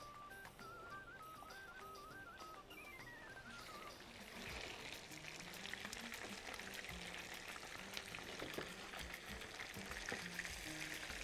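Kofta sizzles in a frying pan, a steady wet crackle that grows louder and busier partway through, with faint kitchen clinks and no talking.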